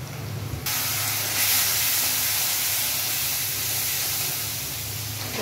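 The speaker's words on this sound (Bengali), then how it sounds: "এখানে আমি একটু লতি বসাচ্ছি চিংড়ি মাছ দিয়ে। আর একটু কষানো হবে।" Loti (taro stolon) and shrimp hiss and sizzle steadily in a hot pan while being braised, a broad, continuous frying noise close by that swells slightly in the middle, with no talking.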